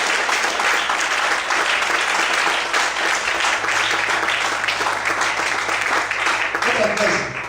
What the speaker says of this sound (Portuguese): Quantos podem glorificar e aplaudir ao Senhor?